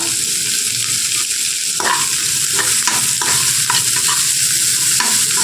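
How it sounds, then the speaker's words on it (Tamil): Finely chopped large onions with fennel seeds sauté in hot oil, giving a loud, close, continuous sizzle broken by repeated scraping strokes of a spatula against the pan. "அதை இதோட ஆட் பண்ணிவிட்டு நல்லா வதக்கி விட்டுறலாம்"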